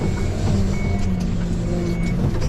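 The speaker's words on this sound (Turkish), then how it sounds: "Arkadaşlar arka sürüyoruz." Hidromek K4 Supra backhoe loader reversing in snow, a steady tonal backup beep repeating over a continuous low diesel engine rumble, close and fairly loud.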